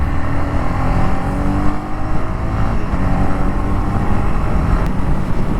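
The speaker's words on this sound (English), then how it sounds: "This is like 6th gear and 100 km/h. The engine is just gliding now." A Honda CB300R motorcycle cruises in 6th gear at 100 km/h on the highway, its engine a steady loud drone blended with heavy wind rush, continuous with no speech.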